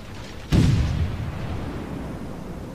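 A single loud, deep boom from warship shells firing in the World of Warships video game, with a rumbling tail that fades slowly over the next two seconds, and no voice.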